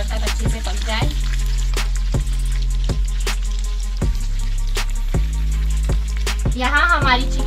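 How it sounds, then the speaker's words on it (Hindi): Mayo-stuffed chicken pieces fry in oil over a low flame with a steady, close sizzle, punctuated by regular sharp clicks and a short burst of bubbling near the end. "देखिए कितनी अच्छी गोल्डन फ्राई हो चुकी है, तो हम पलट लेंगे एक एक करके सबको।"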